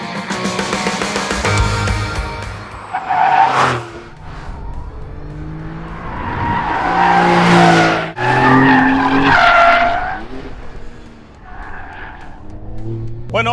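A 2022 Porsche 911 GTS with 480 hp in Sport Plus mode lapping a race circuit: loud engine revs rise and fall in repeated bursts, with tire squeal through the corners, close to the car.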